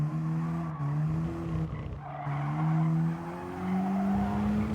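A race car brakes hard in the video game Gran Turismo Sport, its tires skidding and squealing over a steady engine drone. The squeal rises and falls in a few loud waves with no voices.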